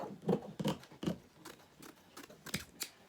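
Scissors snip through thin, cheap mesh fabric from a craft store, about six short crisp cuts in an uneven rhythm, close up and fairly quiet with no talking.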